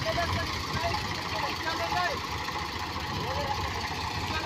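An Eicher 485 tractor engine runs steadily nearby, a loud, continuous diesel rumble and throb with a knocking edge, filling the whole stretch without a break.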